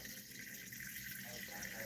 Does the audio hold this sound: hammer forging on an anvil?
no